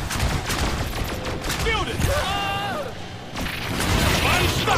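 Bursts of heavy gunfire crackle through a frantic firefight in the video game Evolve, rapid shots and crashing impacts layered with metallic mechanisms, fairly loud and continuous over a few seconds.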